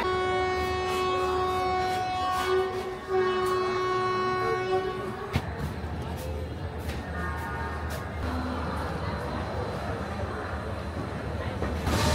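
Tamralipta Express (12857) departing Howrah station on the route toward Digha: a long sustained horn blast sounds, then fades into steady rumbling and clanking of the train getting under way, with a second fainter horn later.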